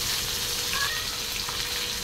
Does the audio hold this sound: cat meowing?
yes